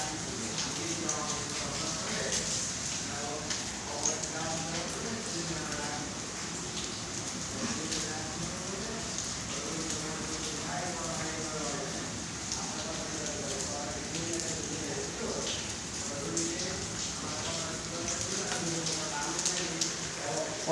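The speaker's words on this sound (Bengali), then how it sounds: "ও পড়তেছে শিলে।" Rain mixed with hailstones pelts down steadily in Dhaka, a dense continuous patter with scattered harder clicks of ice, while voices talk faintly underneath throughout.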